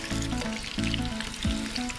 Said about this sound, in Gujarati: પનીર તળાઈ ગયા છે